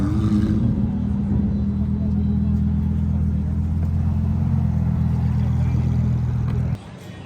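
A Lamborghini Huracan Technica supercar arriving, a deep steady engine rumble held close for several seconds before cutting off abruptly, with voices around it.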